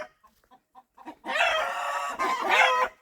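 A loud, hoarse Cochin rooster crow rings out close by after a few faint clucks, stretching about two seconds with a brief break.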